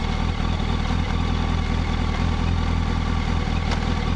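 A 2005 Yamaha YZF R1 motorcycle runs close by with a steady, slightly clattery engine hum that holds an even pitch, loud and continuous around a building.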